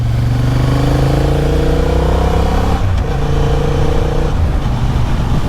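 Honda CB750 Hornet motorcycle ridden in standard mode through traffic in third gear, a close, steady engine drone with a held tone that dips briefly, then carries on evenly.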